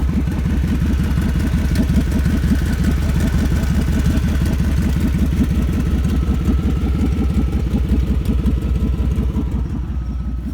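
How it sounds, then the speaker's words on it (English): A loud 1999 Chevy Tahoe engine idles and rumbles close by, with a rapid, continuous popping and crackling from the exhaust throughout, no voices. "One of the exceptions is just loud exhaust over here. Pop, pop, pop, pop, pop."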